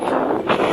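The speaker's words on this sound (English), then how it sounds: "I hope my action camera doesn't pick up that this too much wind noise." Wind buffeting an action camera microphone on a ship's deck during unmooring, a steady close rumbling roar with a gust swelling midway, alone without talk.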